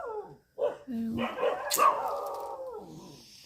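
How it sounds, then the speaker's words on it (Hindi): Stray dogs bark at night outside a dargah, the barks sharp, close and overlapping, and they are mixed in with a person talking nearby. "यहाँ पर इन लोग कुत्ते इतने सारे पागल जैसा भौंकते खड़े हैं।"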